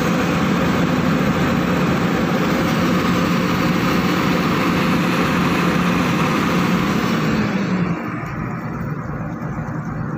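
A heavy engine powers a pump drawing river water at a river slope protection construction site, droning steadily and loudly. Its note drops and quiets as the load eases near the end.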